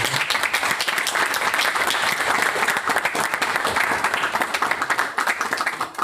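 Audience applause for four panelists closing an engineering conference session, a dense, even wash of many hands clapping, fairly close and steady throughout with no talk over it.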